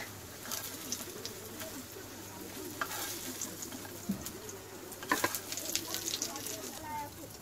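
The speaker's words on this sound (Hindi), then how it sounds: "बचे हुए हमारे केले भी हम अब तल ले फ्राई कर लेते हैं इसमें।" Raw banana pieces frying in oil in a pan, a soft steady sizzle with occasional stirring clinks, fairly quiet, with someone speaking over it.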